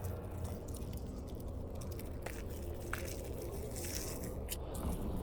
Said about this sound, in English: There's probably a lot of crunching sound in front of the mic